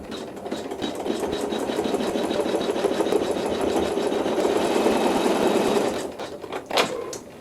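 An embroidery machine stitches out a tack-down stitch, a steady close rapid mechanical whirring that runs for about six seconds before stopping, followed by a couple of brief clicks.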